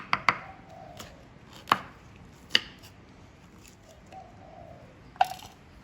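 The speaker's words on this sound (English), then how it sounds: "I'm gonna cut my green pepper." A knife chops green pepper on a cutting board for a quick fish recipe, giving about six sharp, close, irregularly spaced chops, with a pigeon cooing faintly in the background.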